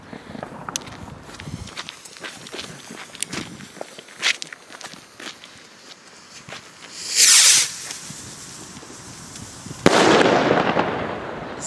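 Small Nico Turbo blue firework rocket from a rocket set: a whoosh of launch, then a sharp loud bang with crackling, followed by another burst of hissing sparkle, heard amid scattered footsteps outdoors with no talking.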